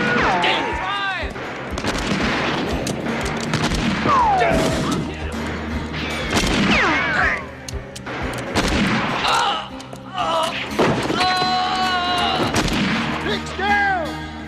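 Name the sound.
gunfire in a western movie shootout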